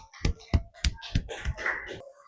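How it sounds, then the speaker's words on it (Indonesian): A small class in an Indonesian-language microteaching lesson claps together: about five sharp, close claps in a steady rhythm, followed by a looser, scattered patter that fades. "Tepuk tangan dulu untuk kita semua."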